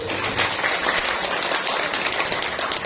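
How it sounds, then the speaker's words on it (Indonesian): Audience applause at a BKKBN village event in a hall in Nganti, Bojonegoro, with steady, dense clapping from a seated crowd that holds an even level for a few seconds. "Bagi tepuk tangan buat narasumber kita hari ini."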